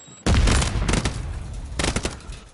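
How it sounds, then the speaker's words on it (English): A Semtex grenade explodes in the video game Warzone 3, giving a sudden loud blast followed by a burst of rapid gunfire and a second cluster of shots, with no voices during the clip. "Throwing Semtex!"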